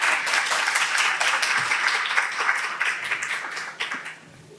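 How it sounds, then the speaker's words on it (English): An audience at a college social work conference claps and applauds in dense, sustained waves that hold steady, then thin out and fade near the end. "So I'd like for you guys to give them a round of applause."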